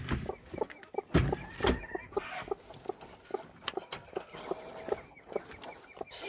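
Hens, including an Australorp, clucking in a coop, with repeated short clucks and murmuring calls scattered throughout, close and fairly loud, along with occasional rustling and thumps.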